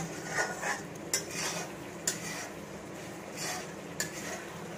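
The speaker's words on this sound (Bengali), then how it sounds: "গ্যাসটা কমিয়ে কষাচ্ছি। তারপর আলুটা দিয়ে একটু কষাবো" Potatoes and spices are stir-fried in mustard oil over a lowered gas flame, with a faint sizzle and a few sharp utensil taps and scrapes against the pan.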